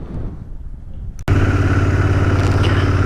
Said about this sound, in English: now we get to have a bit of a ride on the new bike